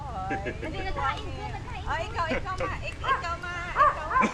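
Several pet dogs bark and yip nearby in a rural Philippine yard, a few sharp overlapping barks and whines mixed with people chattering in the background.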